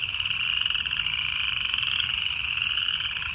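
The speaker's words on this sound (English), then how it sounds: "Listen to those frogs." A dense chorus of frogs in park wetlands croaks without pause, forming a loud, buzzing, continuous trill that fills the scene.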